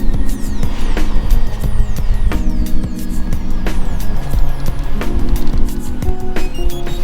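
A Datsun 280ZX with new front coilovers and Willwood brakes being driven through slow chicanes, a close, steady engine drone and mechanical road rumble with intermittent clicks and rattles from the cabin.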